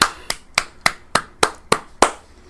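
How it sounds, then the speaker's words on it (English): About seven sharp handclaps from a single clapper, evenly spaced at a slow, steady beat, close and fairly loud, with nothing else heard between them. "Let's give her a round of applause for that."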